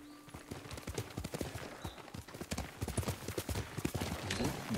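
Horse in the Ghost of Tsushima video game trotting toward the player, hooves clip-clopping in a quick steady rhythm, close and fairly loud, with a faint voice in the background.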